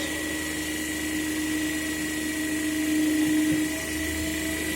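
A self-excited DC generator runs at its rated 220 volts, giving a steady, even machine hum and whine with a faint swell in the middle and no talking.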